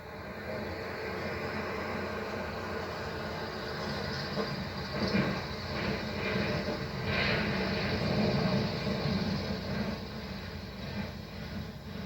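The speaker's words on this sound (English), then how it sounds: "The engine noise and sight of a landing aircraft would distract anyone on the target range." A low, steady engine drone from a small aircraft landing on a runway, swelling slightly midway, heard at a distance with a constant broadband rumble.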